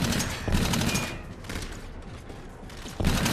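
Gunfire in the video game Call of Duty Infinite Warfare: repeated bursts of rapid automatic fire, fairly close and loud, with short lulls between volleys and mechanical clatter, no talking.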